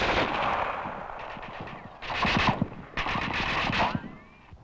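Rifle fire in 1945 Pacific combat against Japanese positions on a hill, heard as scattered sharp shots and bursts over a rumbling battlefield, in close, loud volleys with brief pauses between.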